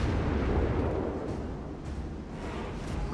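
Naval gunfire rumbles in World of Warships Legends, a steady, heavy low roar of distant shelling and explosions with soft swells and no voices.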